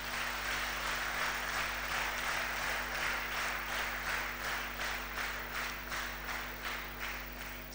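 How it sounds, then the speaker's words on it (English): An audience at an annual day event for a dental college batch gives sustained applause, a steady dense patter of many hands clapping that continues evenly from start to finish over a low hum. "I'd like a big round of applause for him."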